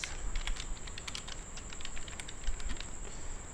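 Fingers tap on a computer keyboard, a close, quiet patter of uneven keystrokes with short pauses over a faint high steady tone.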